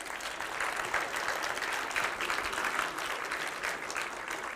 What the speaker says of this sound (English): Hubert Nowak, give a warm applause, please